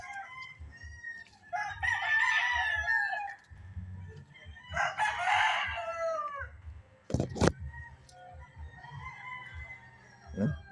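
Two long rooster crows ring out, followed by clucking and scattered fowl calls, fairly close with a quiet gamefowl-farm background.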